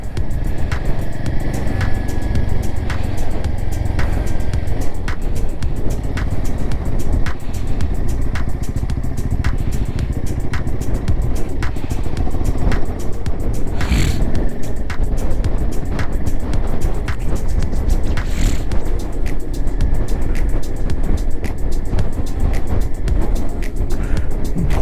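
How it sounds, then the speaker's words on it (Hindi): Strong, cold wind roaring past on a motorcycle ride in Ladakh between Hanle and Umling La, a loud, constant rush of air blended with engine drone, unbroken throughout with no talk. "बहुत ज़्यादा ठंडी और तेज़ हवाएं, बहुत ज़्यादा"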